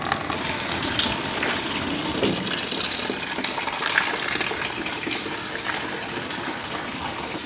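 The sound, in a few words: water filling from a tap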